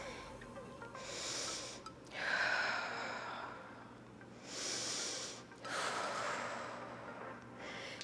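Heavy, rhythmic breathing during a standing workout, with loud breathy exhalations and snort-like gasps about every two seconds, close to the microphone and without speech.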